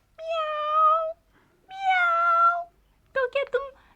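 A cat meows in a radio drama: two long, drawn-out meows, then a quick burst of short chirping mews, close and clear against quiet. The voice may be a human performer imitating the cat.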